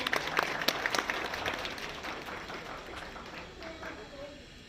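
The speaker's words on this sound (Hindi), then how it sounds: "जोरदार तालियों के साथ इस उभरते हुए युवा बच्चे का तालियों के साथ स्वागत किया जाए।" Audience applause welcoming a young boy at a Tron Square plan event, dense steady clapping that gradually thins and fades, with some speech mixed in.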